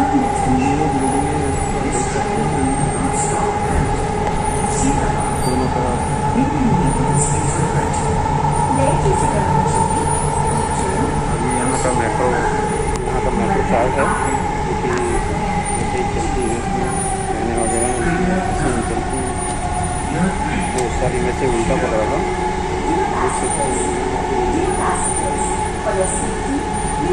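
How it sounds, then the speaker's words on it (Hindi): Loud, steady rumble and hum of a Hyderabad metro train arriving and stopping at MG Bus Station, with continuous mechanical droning and screeching, close by throughout. "यहां पे मेट्रो रुकने वाली है।"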